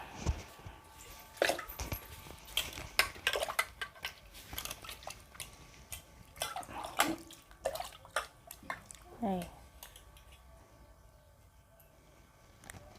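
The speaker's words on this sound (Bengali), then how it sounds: "এখন আমি আলু ধুয়ে নিব।" Peeled potatoes are washed by hand in water, with soft splashes and the knock of potatoes against a container. The sounds come in irregular bursts, close by and fairly quiet.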